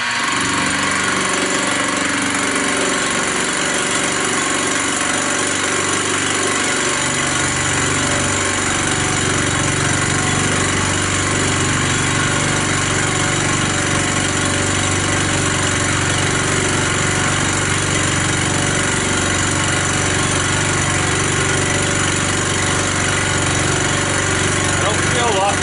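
A Chinese 16mm (5/8") 2-flute indexable end mill takes a milling cut, producing a loud, continuous grinding roar with rattling vibration that holds steady throughout.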